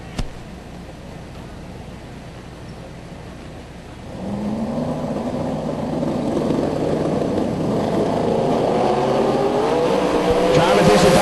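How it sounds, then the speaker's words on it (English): Drag race cars at the Yellow Bullet Nationals, a nitrous car against a twin-turbo car, engines droning in the distance and then rising into a louder sustained roar as they run, with a voice talking over it. "Nitrous going against twin turbos."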